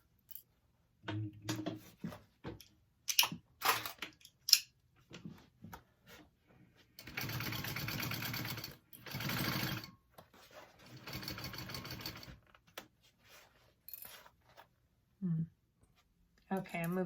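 A sewing machine stitches a daffodil tote bag in close, bursty runs lasting a second or two, separated by clicks, fabric handling and quiet pauses.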